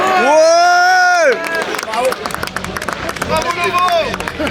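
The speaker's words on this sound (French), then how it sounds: "On applaudit bien fort Dimitri, s'il vous plaît" A crowd claps and cheers for rally driver Dimitri after a first rally finished on the podium, lively applause and babble close by, following a loud sustained tone at the start.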